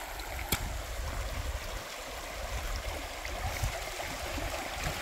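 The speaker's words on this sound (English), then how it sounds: "So we ran into a river stream crossing." A river stream crossing in Denali National Park, Alaska, with steady broadband rushing and gurgling water close by, continuous and fairly loud throughout, with no talking.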